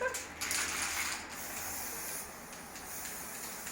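A spray paint can hisses steadily as a red heart is sprayed onto a wall, a continuous close, loud spray running nearly four seconds with slight breaks in texture.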